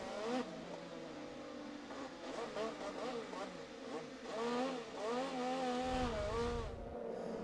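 IndyCar engine from Tony Kanaan's onboard camera through the final two corners at the Indy Grand Prix of Louisiana, with pitch rising and falling through shifts and braking, heard under a commentator's talk.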